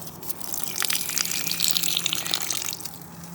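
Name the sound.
water running from an outdoor faucet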